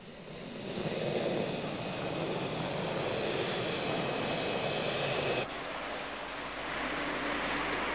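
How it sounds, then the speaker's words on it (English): Boeing 737 and 757 jet engines in Brunei give a steady, loud roar with a high whine layered on top, then drop to a lower rumble partway through. "It moved directly into jet aircraft using Boeing 737s and Boeing 757s."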